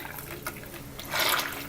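Soap-making oils are poured from a master batch container into a vessel for weighing, a brief liquid glug and trickle up close, quiet at first and then swelling near the end.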